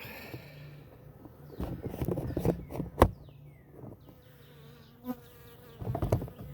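Honeybees in an open hive hum steadily in a low, continuous drone, with soft clicks and handling knocks over the buzzing.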